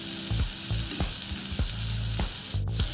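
Half a teaspoon of cumin seeds sizzling in hot oil for veg burritos, a dense, bright crackling hiss throughout, punctuated by low rhythmic thumps of stirring, up close and without speech.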